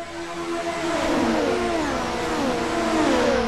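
Race cars in a sim racing game scream out of a turn on a superspeedway, several engines revving up together in a loud, steady, rising drone with overlapping pitch sweeps.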